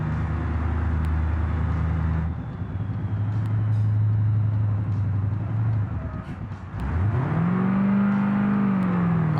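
A video game space vehicle's engine hums and purrs steadily, dipping briefly then revving back up with a rising whine, loud and close, no voices.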